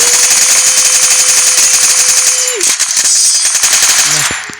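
UMP submachine gun fire in a video game: a rapid, loud automatic burst of shots for several seconds, followed by a few scattered shots and a brief electronic tone, with no speech.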